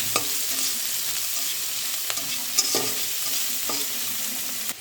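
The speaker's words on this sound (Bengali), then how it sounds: "এবার আমি মাছ ভাজার তেলের মধ্যে দিয়ে দিলাম পেঁয়াজ ১/২ কাপ পরিমাণ।" Half a cup of onions frying in hot oil left from frying fish, a steady close sizzle with spatula scrapes and a few sharp clinks against the pan.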